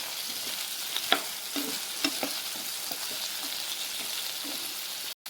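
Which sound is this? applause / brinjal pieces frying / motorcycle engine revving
brinjal pieces frying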